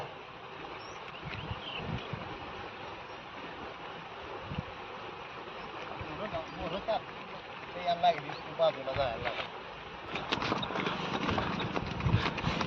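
Bullocks walking with hooves clopping in a steady uneven rhythm, heard outdoors under a continuous background wash, with the footfalls growing busier and louder toward the end.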